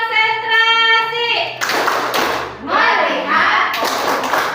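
A group of school teachers does a short rhythmic clap chant, a few loud close claps and thumps between bursts of chanted group voices and a sustained vocal tone.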